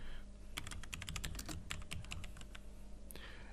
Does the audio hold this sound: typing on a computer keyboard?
yes